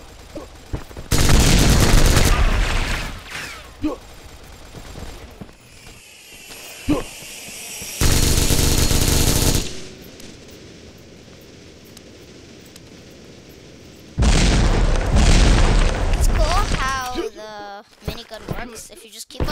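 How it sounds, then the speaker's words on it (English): Bursts of sustained rapid gunfire from a minigun in a video game, three long loud volleys separated by quieter gaps with scattered shots, with a voice talking between them. "Minigun works. If you just keep on shooting"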